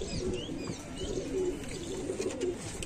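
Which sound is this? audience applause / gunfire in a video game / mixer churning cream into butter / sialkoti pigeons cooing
sialkoti pigeons cooing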